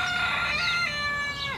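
A small bantam rooster crows once, loud and close, a long strained call that rises and then trails off over faint outdoor background noise.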